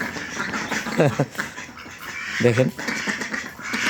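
Ducks quack in short bursts close by while a person speaks over the flock, with a noisy farmyard background.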